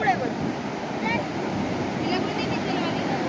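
Big sea waves and strong wind roar steadily at Alibag beach, a dense close wash of surf and wind noise; a person talks over it.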